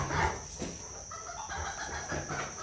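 Barnyard chickens cluck and call faintly in short bursts, a few clucks scattered across a quiet outdoor farm background.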